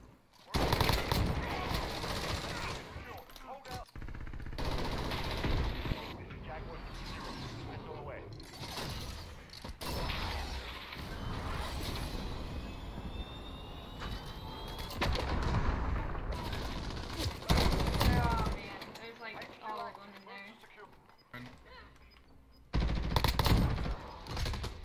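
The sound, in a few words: shotgun gunfire in Call of Duty video game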